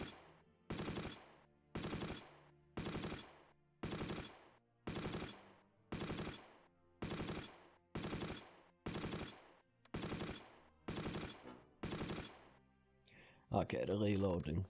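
A .30 cal machine gun in the Close Combat video game fires a belt in about a dozen evenly spaced loud bursts, each a short sharp rattle, followed by a brief stretch of speech at the end.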